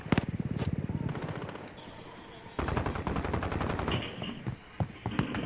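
Rapid bursts of gunfire in a shooter video game, loud and close, with firing runs broken by brief pauses amid game effects.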